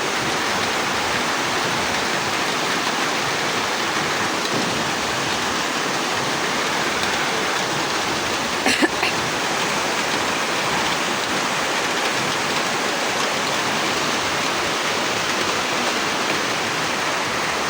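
Steady heavy rain outside makes a dense, even wash of hiss, loud and continuous, with a brief faint knock near the middle and no speech.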